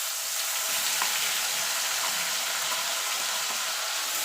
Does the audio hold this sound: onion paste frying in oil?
yes